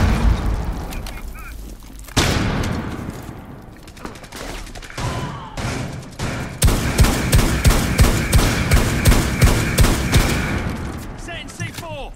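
Rapid bursts of gunfire in Rainbow Six Siege, loud and close, with repeated sharp shots through the middle and end amid game action, and voices talking over it.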